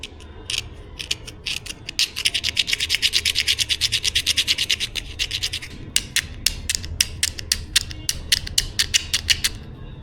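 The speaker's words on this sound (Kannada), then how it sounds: "ಇವಾಗ ನೀಟಾಗಿ ರಫ್ ಮಾಡ್ತೀನಿ" Rapid rhythmic scratching as a helmet's surface is roughened for a chin mount, close, bright rasping strokes in quick even bursts, pausing briefly and then resuming in a looser, slightly spaced run.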